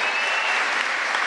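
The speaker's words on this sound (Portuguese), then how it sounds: "Vai aplaudir para valer, gente." A church congregation bursts into applause, a dense, even clatter of many hands clapping at once, loud and unbroken for a brief moment with no talk over it.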